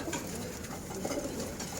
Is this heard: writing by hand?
no